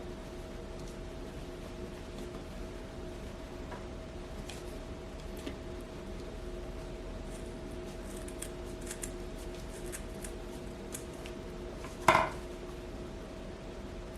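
Scissors trim the twine ends of a handmade ornament garland: a single crisp snip near the end stands out against an otherwise quiet, faintly ticking room.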